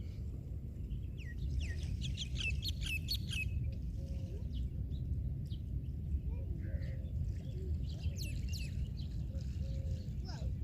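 Small birds chirp and tweet intermittently at Al Bateen Beach at sunrise, faint and scattered over a steady low rumble of wind or surf.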